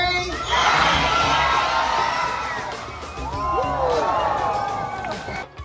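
A large group of children shouts together loudly and excitedly, a sustained wall of young voices with whoops rising near the end.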